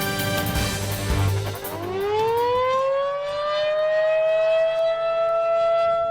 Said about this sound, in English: Sound of sirens many 4-staters are familiar with at the expected time of the year